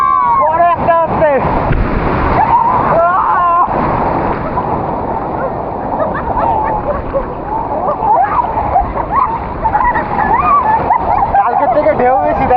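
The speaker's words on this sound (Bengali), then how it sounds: "কালকের থেকে ঢেউ বেশি তাই না?" Sea waves break and wash along the beach at Puri, a loud continuous roar and splash with wind buffeting the microphone, while people talk over it throughout.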